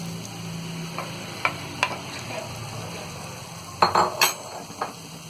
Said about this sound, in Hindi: अब ये भाजी को हम इस तरह एक तरफ करेंगे और ये बीच में हम ये अंडे को डाल देंगे।